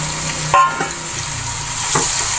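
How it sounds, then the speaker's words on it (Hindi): Chicken pieces frying in a pan for a curry, a steady low sizzle with stirring scrapes and clatters near the start and again toward the end, with no talk. "अब इसको मैं थोड़ी देर भून लूँगी, इसके कलर चेंज होने तक"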